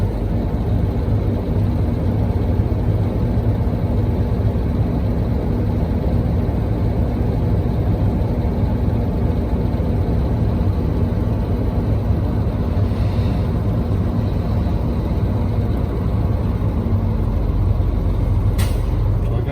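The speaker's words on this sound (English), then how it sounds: "I'm gonna push my both brakes in and build the pressure, you know." A truck's air brake system building pressure with the engine idling during a pre-trip air leakage test, a steady loud low rumble and hiss throughout, with a couple of brief sharp hisses near the end.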